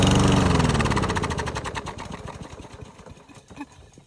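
A lawnmower engine runs loud and close while snow is fed through its intake, its rapid chugging slowing and sputtering down as it labours.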